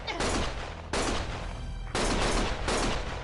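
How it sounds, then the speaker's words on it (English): Bursts of gunfire in the Lost Judgment video game come in four loud, dense volleys, each rattling for under a second with brief gaps between them. "Stop shooting!"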